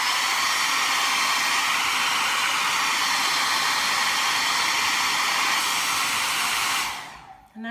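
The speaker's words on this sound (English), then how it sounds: "Now we'll blow dry it." A blow dryer blasts over chalk paste on a canvas, a loud, steady, close whoosh that runs unbroken for several seconds before switching off abruptly.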